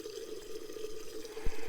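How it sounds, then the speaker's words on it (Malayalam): Water runs from a public pipeline tap during preparations for the Attukal Pongala offering, a steady close gushing stream with a faint splash near the end and no voices. "ഈ പൈപ്പ് ലൈൻ പൈപ്പാട്ടോ, സാധാരണ ഇതിൽ വെള്ളം ഉണ്ടാവാറില്ല. ഇന്നിപ്പോൾ ഭാഗ്യത്തിന് നമുക്ക് വെള്ളമുണ്ട്."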